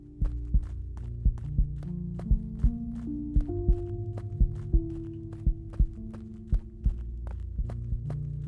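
Steady, regular heartbeat thumps from an enemy in a horror-style game tower, pulsing about every half second over a low droning musical hum, fairly prominent throughout.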